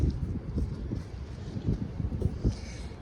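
Strong wind gusts outdoors, a rough low buffeting rumble against the microphone that surges and dips irregularly throughout, with no clear speech.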